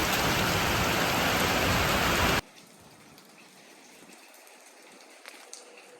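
Heavy rain falls in a dense, loud, steady roar for a couple of seconds, then cuts off abruptly to a quiet outdoor background with faint scattered sounds.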